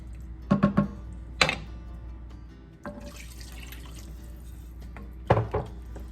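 Broth pours into a soup pot for Italian sausage and pepper soup, four cups with Knorr bouillon cubes, giving quiet splashes and drips in a few short bursts and a soft watery wash midway, with no talking.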